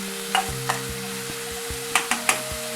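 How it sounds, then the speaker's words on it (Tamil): Sliced onions sautéing in a pan for prawn thokku, a soft steady sizzle under a constant hum, broken by several sharp close clicks of a spoon stirring against the pan. "ஒரு 10 நிமிஷம் வெங்காயம் வதங்கியாச்சு."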